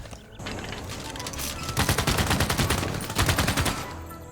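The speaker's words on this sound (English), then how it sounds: "Kawilla just opened fire on my artillery" Gunfire in Civilization VI as a city opens fire on artillery: a sustained rattling fusillade of rapid shots in two dense bursts over a low rumbling background, loud and close, with no talk.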